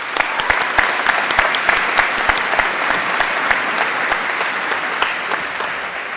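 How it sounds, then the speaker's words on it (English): Steady applause from a commencement audience at a college of engineering graduation, greeting student award winners, with dense, even clapping that holds at a constant level throughout. "we can get a quick round of applause for our two Student Chancellor's Award winners"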